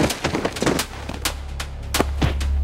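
A gun fires in a robbery scene of an animated folk-tale film, giving a rapid run of sharp cracks and bangs over a couple of seconds, loud and up front with no speech.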